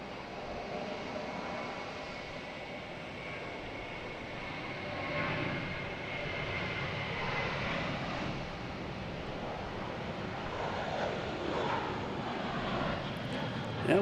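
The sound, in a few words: JetBlue airliner taking off from Logan Airport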